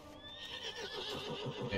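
A horse from the World of Warcraft video game gives a single faint whinny, with soft hoof clip-clops and game ambience underneath.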